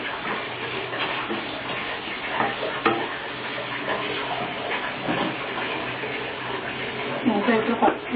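Ginger garlic paste frying in a pan, a steady dense sizzle with stirring scrapes throughout, a bit louder near the end, while a person talks over it.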